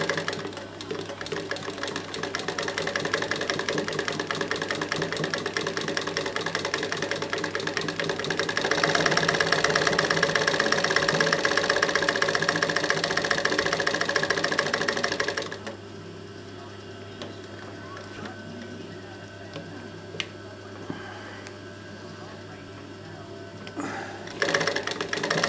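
A Singer 31K15 industrial sewing machine runs at slow speed with a steady, close mechanical whir and rapid needle clatter for about fifteen seconds. It then drops to a quieter hum with faint ticks and speeds up again briefly at the end.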